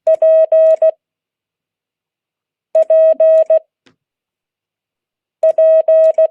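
A Morse code letter P keyed three times as clear steady beeps, each group a short, two longs and a short, separated by pauses and with no talking.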